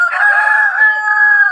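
A rooster, one of two males kept for cooking, crows once loudly and close in a single drawn-out call lasting over a second, with no other sounds.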